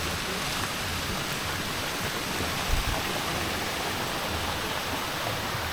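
Pool waterfall beside a swim-up bar at a resort in Coron, Palawan, Philippines, heard as a constant, even wash of splashing water with no talk.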